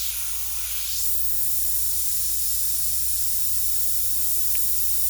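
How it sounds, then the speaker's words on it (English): Airbrush spraying paint in a continuous, steady hiss that stays close and even throughout, over a faint low hum with no talking. "With airbrush painting, I don't like to get paint on so heavy that it starts getting pushed around with the air."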